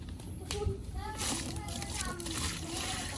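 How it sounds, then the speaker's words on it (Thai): Water is poured splashing onto water-absorbing gel beads, giving a brief watery slosh under the chatter of children's voices nearby. "ใส่น้ำเลยนะคะ"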